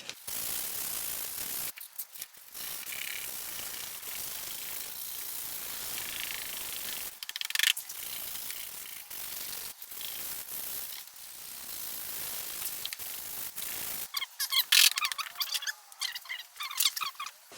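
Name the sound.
sanding Audi A3 plastic headlight with 220 grit disc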